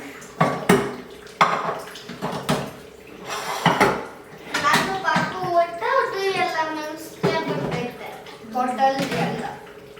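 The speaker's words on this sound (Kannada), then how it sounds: "ಇನ್ನು ನಾನು ಒಂದಷ್ಟು ಪಾತ್ರೆ ಏನು ಹಿಂದಿನ ದಿನ ಎಲ್ಲ ವಾಶ್ ಮಾಡಿಟ್ಟಿದ್ದೆ ಅದನ್ನೆಲ್ಲ ಜೋಡಿಸ್ಕೊಳ್ತಾ ಇದ್ದೀನಿ" Washed pots and utensils are stacked in a home kitchen with sharp metallic clanks and clatters at irregular intervals, while people, including a child, talk nearby.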